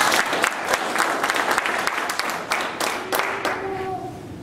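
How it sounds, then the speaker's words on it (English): A crowd claps for honored graduates at a military food service basic course graduation ceremony, a dense round of applause that thins and tapers toward the end, with a few sharper individual claps standing out. "Will everyone join me in a round of applause for our distinguished and honored graduates?"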